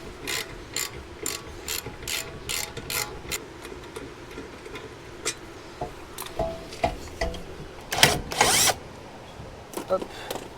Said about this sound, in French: Et maintenant, hop, on va démonter le support étrier.